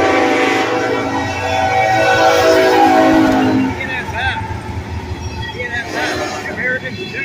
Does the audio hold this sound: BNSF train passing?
yes